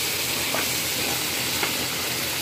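Food fries in a pan while being stirred for Filipino pancit bam-i with carrots, a steady close sizzle with a couple of soft scraping strokes, no voices.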